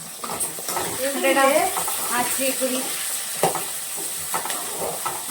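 Onions sizzle and fry in a pan for a Tamil kuzhambu, a steady hiss broken by stirring scrapes, while someone talks over the cooking.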